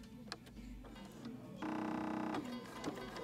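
A Bernina 7 Series sewing machine with its dual feed engaged stitches in a steady mechanical whir that starts after a few clicks, runs for under a second, then stops with a couple more clicks.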